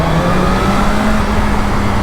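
Shelby GT500 engine running at a steady moderate rev, a loud continuous close-up rumble with a held tone and no talk over it.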